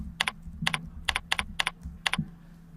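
Someone types a short entry on a computer keyboard while building a database query: close, crisp key clicks in quick uneven bursts, with brief pauses between groups of strokes and no talking.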